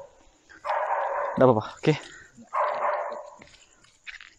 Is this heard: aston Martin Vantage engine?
no